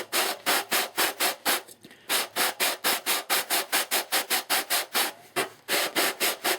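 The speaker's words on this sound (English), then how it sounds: "without letting the end of the sander pass your rib" Rhythmic back-and-forth strokes of a sanding block against a balsa wing rib of an E-flite PT-19 450 model airplane, steady and close, about four strokes a second with a brief pause midway.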